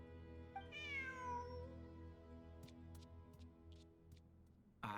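Cat meowing in Genshin Impact during a ruins exploration event: one clear, rising-then-falling meow over a quiet ambient hum, followed by a few soft ticking clicks.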